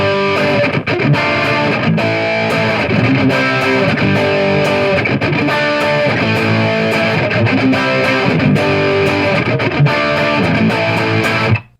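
Distorted electric guitar chords from a Fesley FLP350 LP-style guitar ring out continuously, played straight into an amp, strummed steadily and loud, with no talking.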